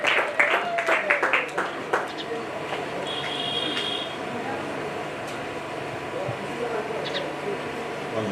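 A church congregation claps and acclaims to welcome a bishop. Quick, rhythmic clapping opens the sound, then settles into a steady wash of crowd noise and voices in a large hall.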